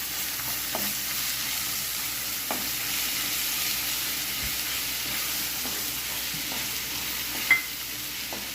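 Steady sizzling of cinnamon, cloves, cardamom and bay leaf frying in hot oil, close and continuous, with a few soft clicks of a spoon stirring in the pan.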